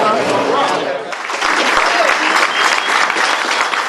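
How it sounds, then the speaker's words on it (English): Consolation applause rises after Toronto loses its bid for the 2008 Summer Olympics, a loud, sustained crowd clapping that swells after a brief dip, with voices scattered through it. "There was applause, the applause of consolation"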